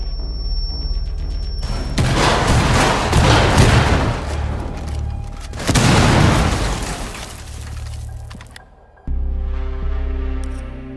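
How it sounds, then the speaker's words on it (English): Cluster charge detonating in Rainbow Six Siege: a rapid chain of loud, close booms and bursts across several seconds, with a second heavy volley midway, then a steady low rumble at the end. "Go detonate the cluster charge!"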